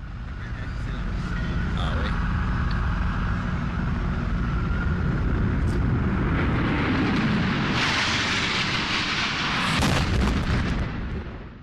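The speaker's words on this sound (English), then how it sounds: "The second plane hits the south tower between the 78th and 82nd floors at 9:03 a.m." A massive explosion as a jet plane crashes into the south tower, a sustained loud roaring rumble that swells and surges near the end, heard from a distance with crowd noise beneath.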